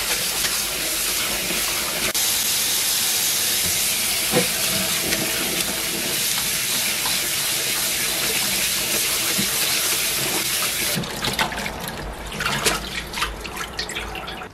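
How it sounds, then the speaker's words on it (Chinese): Water runs and splashes continuously as Chinese chives are washed by hand, a steady loud hiss of flowing water that turns into irregular, choppier splashes near the end. "先来将韭菜搅洗干净"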